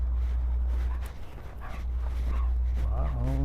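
A dog whimpers and whines in short rising and falling cries near the end, layered over low steady background rumble and movement noise outdoors.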